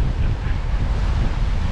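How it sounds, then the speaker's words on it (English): Sea waves surge and break on a beach in Roquetas de Mar, Almería, under strong wind buffeting the microphone, a continuous loud roar with low rumbling wash throughout and no voices. "you can see the waves"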